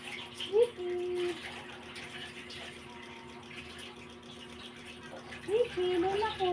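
A puppy being bathed, with a steady wash of running water and light splashing throughout, while a person talks and makes cooing sounds over it.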